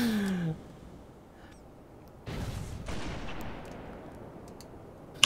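Sniper rifle fire in Halo MCC during an online match: a sharp loud shot at the start, then a heavy report with a long decaying tail, over quiet game ambience with no talking.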